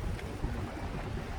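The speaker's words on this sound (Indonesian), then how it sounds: "Anginnya benar-benar gokil, nggak mendukung nih untuk ngevlog di pantai nih." Strong wind buffets the microphone at a beach, with rough waves surging nearby; a continuous, fairly quiet roar with no speech.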